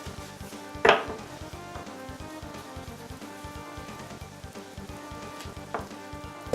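Garlic and mushrooms with salt and pepper sizzle steadily in a pan, a constant close crackle with one sharp clack of the pan or utensil near the start and another softer knock later.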